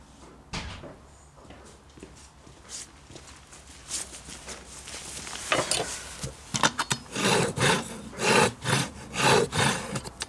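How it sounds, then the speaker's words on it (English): A butcher's knife is sharpened with a few scattered strokes at first, then a run of quick, rhythmic rasping passes that grow louder toward the end. "I'll just sharpen my knife."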